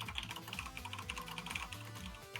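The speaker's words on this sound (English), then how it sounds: "I hear furious typing." Fast, furious typing on a mechanical keyboard, a dense stream of clicky keystrokes at moderate closeness, continuous and uneven in rhythm, low in level beneath a faint background hum.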